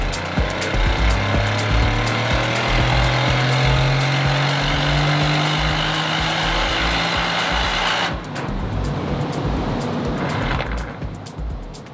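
Aston Martin V8 Vantage with a Stage 1 ECU remap running steadily for several seconds, a continuous engine drone with a steady low hum. Partway through it shifts and turns noisier, with a rougher tone.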